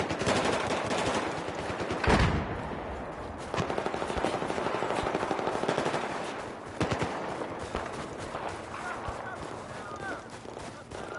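Automatic assault rifle fire rattles in long continuous bursts during Battlefield Hardline combat, loud and near, with brief pauses and sharp blasts, over dense battlefield noise.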